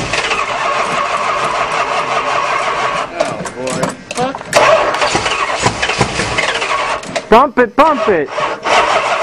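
A 1976 Chrysler New Yorker, sitting for 17 years, cranks repeatedly with a laboring starter and coughs toward catching, loud and close, while people shout over it.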